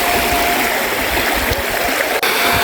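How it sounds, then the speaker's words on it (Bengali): Fruit rinsed under steadily running water outdoors at a picnic, a continuous close stream with light splashing and one brief sharp knock near the end. "তো এইগুলা ধুয়ে নিচ্ছি।"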